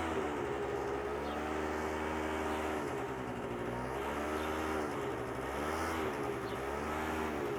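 A scooter engine on a slow-speed training course revs with too much throttle, its close, buzzing whine rising and dipping in steady waves.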